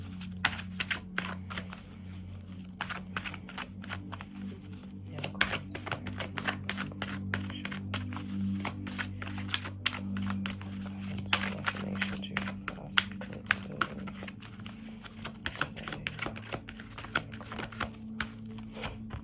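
Tarot cards shuffled and drawn by hand, with a dense run of quick, crisp riffling taps and flicks, close and soft, over a low steady hum.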